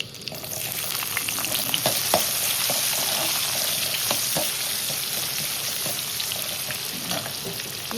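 Chopped onion fries in a small tempering pot with chili for a tomato chutney tempering, giving a dense, continuous close sizzle with faint crackles and occasional stirring taps.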